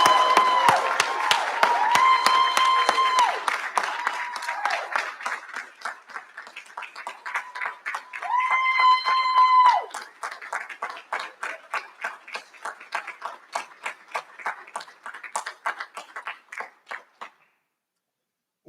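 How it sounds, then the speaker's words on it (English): Applause at a graduation recognition ceremony, a crowd clapping with sustained tonal cheers and whoops early on, then thinning to scattered, separate claps that fade out near the end. "a rousing round of applause for your accomplishment"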